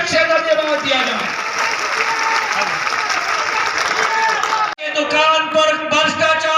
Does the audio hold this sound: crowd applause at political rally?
yes